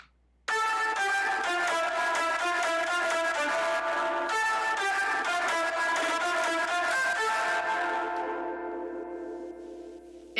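A guitar-made EDM lead with a Kickstart pumping effect plays alone, a bright, dense synth-like tone sustaining loudly for about ten seconds before tapering off.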